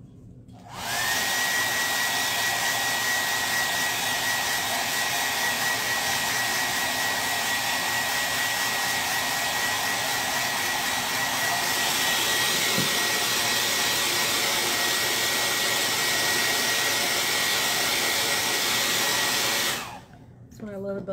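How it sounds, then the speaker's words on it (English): A hair dryer blows steadily and loudly on chalk paint coated on a wooden Easter bunny cutout, a continuous whooshing roar with a faint whine that runs nearly unbroken for about nineteen seconds before cutting off. "So now I'm going to blow dry it"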